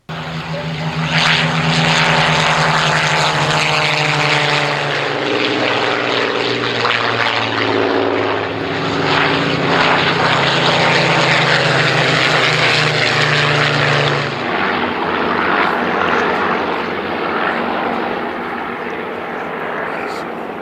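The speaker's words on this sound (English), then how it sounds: "there is no getting away from the unmistakable sound of the Merlin engine." Rolls-Royce Merlin engine of a Hawker Hurricane fighter plane droning loudly and steadily, a deep propeller roar with a shifting pitch that fades a little in the last seconds.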